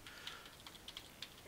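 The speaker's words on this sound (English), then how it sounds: "I'm going to actually type in this word." Quiet keystrokes tapped out on a computer keyboard in a short, uneven burst of clicks, close and alone with no talking.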